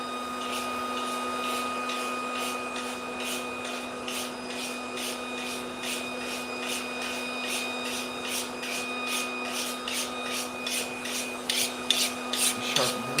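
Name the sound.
scraping hair off a harvested pig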